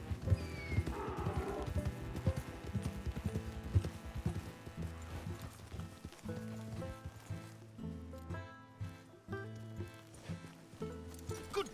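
Steady horse hooves clip-clopping with a whinny in Red Dead Redemption 2, set against a busy game music track that carries on throughout.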